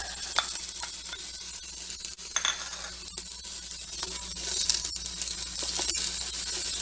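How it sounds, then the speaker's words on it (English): Onions and garlic sautéing in a pan with a steady, soft sizzle and occasional light stirring clinks, quiet and continuous throughout. "And we're going to saute these for about 5 minutes."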